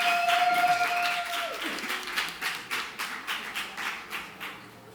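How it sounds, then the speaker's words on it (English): Audience clapping at an innovation and social inclusion awards event, a continuous patter of applause that thins into slower, rhythmic group claps as a tone fades out at the start. "So please welcome with a big applause Jesús Hernández"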